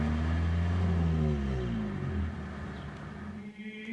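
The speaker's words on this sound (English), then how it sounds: "In a car, the valves open and close, and we get big bursts of sound coming out from the engine." A car engine revs loudly and winds down, its deep droning tone sliding lower over a few seconds before fading toward a quieter idle.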